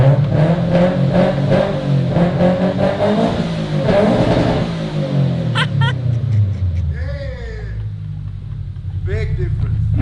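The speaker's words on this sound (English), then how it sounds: "Yo, the boxer rumble is sick." A Subaru BRZ boxer engine fitted with a UEL header exhaust revs loudly close by, rising and falling through deep, rumbling sweeps, with brief voices heard toward the end.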